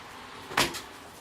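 The back door of an old church opens with one short, soft knock and creak, close by, against a steady background hiss.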